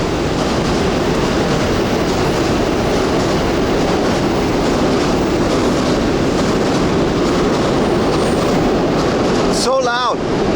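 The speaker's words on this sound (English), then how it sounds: "There's like 4 train tracks above us." Trains rumbling loudly across several sets of elevated tracks overhead in Tokyo, a continuous heavy roar with clattering wheels and wind buffeting the microphone, ending with a brief squeal.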